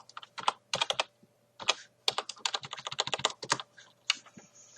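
Keys clatter on a computer keyboard as a command is typed in Rust Legacy, in quick bursts of close, crisp clicks separated by short pauses, alone with no talk.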